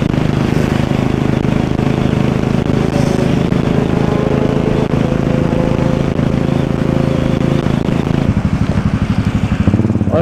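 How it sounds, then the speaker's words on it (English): Sports bikes riding past on the road, a loud continuous engine roar that holds steady and then shifts into a rougher, pulsing drone toward the end, with no talk. "Sports bikes in action."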